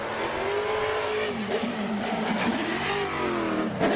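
A drift car engine roars under sustained throttle during Formula Drift qualifying in New Jersey, with a quick rev blip among the steady, loud racing engine noise and no voices.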